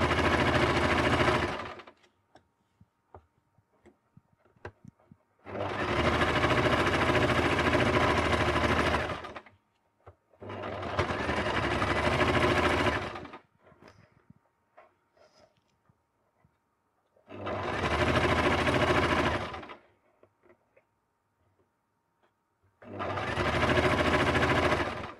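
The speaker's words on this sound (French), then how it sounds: "je vais faire ma petite couture de maintien" A sewing machine runs a loose basting seam on a fabric Christmas stocking in four bursts of fast, steady stitching, each a few seconds long, with quiet handling gaps between them.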